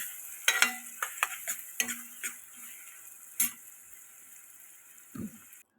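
Onions fry with turmeric over a low flame for a chicken curry, with a faint hiss beneath a series of sharp spatula taps and clicks against the pan, spaced unevenly and then trailing off.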